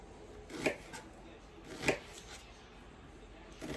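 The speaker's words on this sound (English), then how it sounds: "just start chopping it up." A knife chops vegetable wedges on a board for spaghetti and meatballs, landing three distinct, close thuds spaced a second or more apart against a quiet background.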